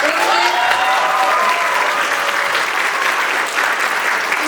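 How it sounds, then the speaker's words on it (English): Sustained applause from a school theater audience after a Northwest Local School District production of Sleepy Hollow, a dense steady wash of many hands clapping with a few faint voices mixed in. "Can we get a round of applause for them?"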